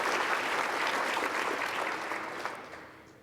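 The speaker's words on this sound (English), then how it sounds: "Can we give him a round of applause, please?" Audience applause at the 2023 ATSE Awards gala, a dense, steady wash of clapping from a large crowd that slowly fades toward the end.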